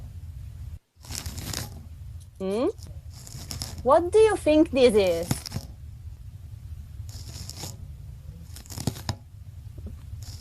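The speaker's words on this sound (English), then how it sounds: "the sound of a snail eating." A snail eating, its radula rasping food in short bursts of dry, crunchy scraping that come and go between stretches of a person talking close by.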